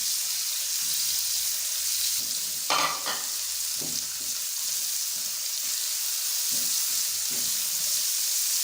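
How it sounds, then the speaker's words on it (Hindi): Onions frying in ghee with cumin seeds and a piece of cinnamon give off a steady, close sizzle, with a few scraping stirs partway through. "फ्राई करना है प्याज को घी के अंदर जब तक ये ब्राउन ना हो जाए"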